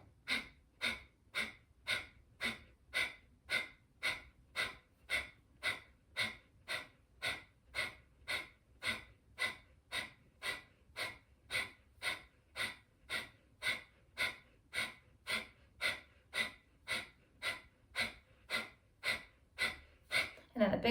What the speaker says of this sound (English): take about a half of a breath, and then 40 quick exhales